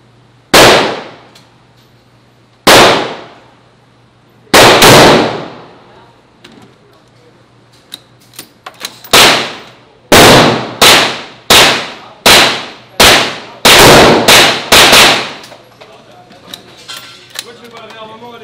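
Weapons firing in the video game Modern Warfare, including sniper, shotgun, assault rifle and SMG: sharp loud shots, first single widely spaced blasts, then a quicker irregular burst of repeated cracks, each ringing out briefly.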